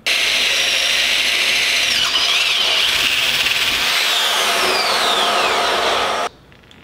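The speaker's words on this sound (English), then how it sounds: "you're gonna drill two holes, one here and one here" A power drill boring holes in wood for a homemade wooden go-kart build, a loud, close, continuous high-pitched whine with shifting pitch as the bit cuts, stopping abruptly at the end.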